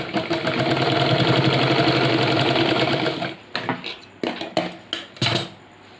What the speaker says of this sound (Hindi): तो यहाँ पे यहाँ तक हम लोग सिलाई लगा लेंगे।